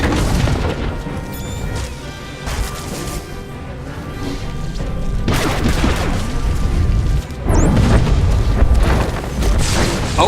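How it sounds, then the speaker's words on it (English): Explosions from a detonated research terminal in a video game: several loud, deep booms and crashing blasts, each rumbling and decaying over a couple of seconds amid constant battle noise. "the knight detonates the research terminal"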